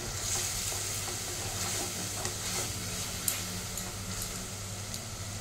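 Spice masala made of finely chopped aromatics sizzles steadily in oil in a pan while potatoes are cooked, a continuous close crackle with a few light clicks of stirring.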